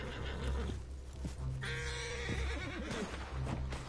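A horse whinnies in Red Dead Redemption 2 Online over a steady low rumble, its shrill neigh rising and wavering briefly before fading back into the background noise.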